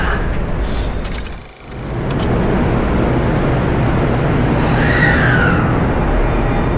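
Local train at Shinjuku, Japan, heard from close by as a loud, continuous rumble and roar, with a brief dip in level and high squeals and hiss from the wheels and brakes.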